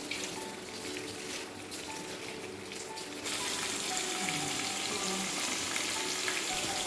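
Chicken tikka pieces fry in three to four tablespoons of oil in a pan, a steady close sizzle that jumps louder partway through and then holds as a dense, continuous crackle with no talking.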